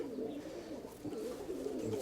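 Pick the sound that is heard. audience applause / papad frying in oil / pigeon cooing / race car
pigeon cooing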